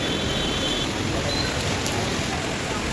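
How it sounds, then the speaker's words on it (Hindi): Heavy rain pours down outside, flooding the ground, a dense and constant roar of falling water that holds steady throughout. "सुबह उठ रही तो देखी ज़बरदस्त बारिश हो रही है, पानी भर रहा है।"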